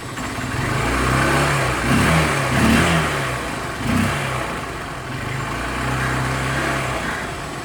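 A KTM Duke 250 motorcycle engine running while parked, a close, loud, low rumbling idle that swells in a few gentle revs and settles back, with no talk.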